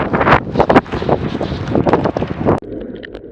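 Strong gusts batter the microphone during heavy rain showers while riding an ElliptiGO bike, a loud, ragged buffeting that cuts off abruptly near the end.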